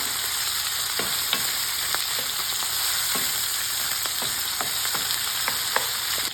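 Bacon and peppers sizzle steadily in a pot for Cuban-style red bean soup, a constant hiss broken by scattered crackles and pops, close and alone with no talking.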